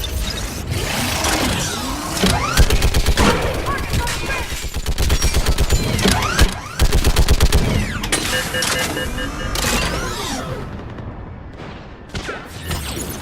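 Mounted gun in Mass Effect 3 firing rapid bursts of automatic fire, loud and close, with mechanical clanks, impacts and shattering debris between volleys and brief voices in the mix.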